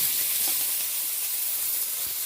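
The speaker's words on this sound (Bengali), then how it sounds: "এবার ইলিশ ভাজার পরে কড়াইতে কিছুটা পরিমাণ তেল রয়েছে, ওই তেলেই আমি বেগুনটা ভেজে নেব।" Eggplant fries in leftover hilsa oil in a wok, giving a continuous bright hissing sizzle, close and even, with no one speaking.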